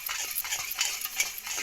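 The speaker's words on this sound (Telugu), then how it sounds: "సాల్ట్ వేసుకొని మనం ఇలాగా కవ్వం కొట్టుకుంటామండి" Curd being churned by hand with a wooden churner in a home kitchen while making a spiced curd and eggplant dish, a quick run of soft, close swishing and knocking strokes in an uneven rhythm, with no voices.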